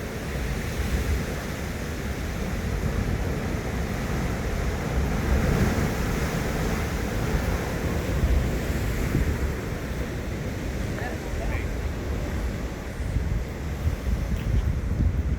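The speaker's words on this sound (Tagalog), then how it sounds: "Oh, lakas ng alon, no?" Heavy surf roars continuously at Pancake Rocks blowholes, waves surging and churning under strong wind buffeting the microphone, with no voices.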